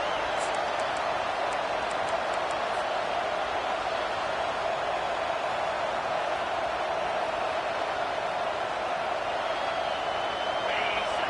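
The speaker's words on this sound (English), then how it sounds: "This crowd trying to make life miserable for this offense." Stadium crowd noise from the NCAA 25 college football video game, a steady, dense roar that holds at an even level throughout without distinct cheers or breaks.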